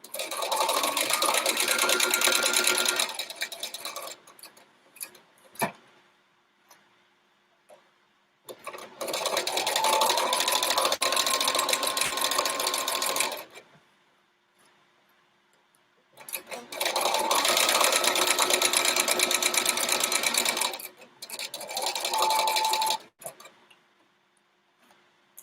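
A sewing machine pieces a flying windmills quilt block in three long, steady whirring runs of stitching, with quiet pauses between them and a short extra burst near the end.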